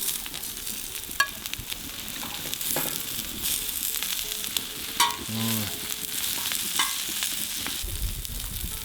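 Goose thigh pieces sizzle skin-side down in a hot pan, a continuous crackling fry with occasional sharper pops and a brief scrape, close and alone without voices.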